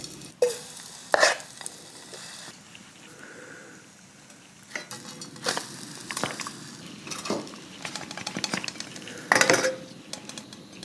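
Pancake cooking in butter in a pan at an overnight camp in the Hunua Ranges, a soft steady sizzle broken by sharp metallic scrapes and clinks of a utensil against the pan, close by with no talk.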